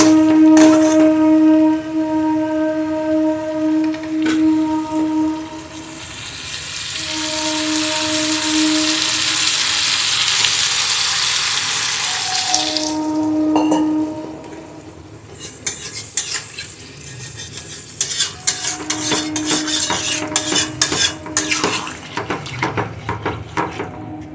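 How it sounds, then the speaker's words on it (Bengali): Water hits a hot pan of potato, pointed gourd and prawn curry, making a broad rushing hiss that lasts several seconds. Clinks and scrapes of a utensil against the pan come before and after it. "এবার আমি জল দিয়ে দিচ্ছি।"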